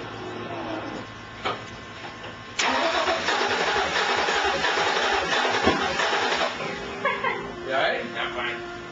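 A race car engine cranks and struggles to start, then catches into a loud, rough, uneven roar that surges and sputters, close by and dominating throughout.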